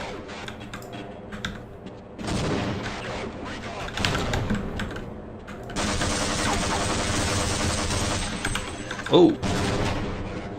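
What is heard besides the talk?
grenades and gunfire in the video game Half-Life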